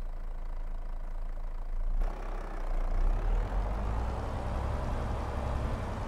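A Tatra truck engine idles in Farming Simulator 22, a low steady rumble that swells and grows fuller partway through, then settles into an even drone with no talking.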